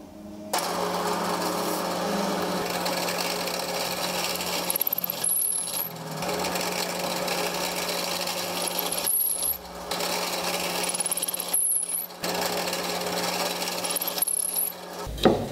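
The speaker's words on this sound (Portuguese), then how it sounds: "Dá para fazer aqui na furadeira de bancada e dá para fazer também na furadeira manual." A drill press motor runs with a steady whine while the bit bores into wood for table legs, pausing briefly a few times before starting again.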